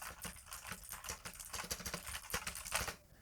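Rapid, irregular clacking of keys on a cheap $10 PrimeConnect 60% wireless keyboard, recorded close with a few sharper, louder strikes and no voices.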